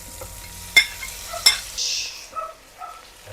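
Meat frying in a pan, with soft sizzling and stirring scrapes, two sharp utensil knocks, and a brief louder hiss burst partway through.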